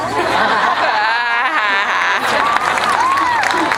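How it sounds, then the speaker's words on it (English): A large crowd applauds and cheers loudly outdoors on a football field at a 2010 senior graduation, with whistles, scattered shouts and laughter mixed into the sustained clapping. "I bet you never expected me to get this much applause while standing on a football field."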